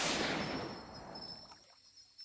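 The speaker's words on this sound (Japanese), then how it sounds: "山の中に銃声が響く。" A single gunshot in mountain country, a sharp burst that rolls out into a decaying echo over about two seconds, faint and alone.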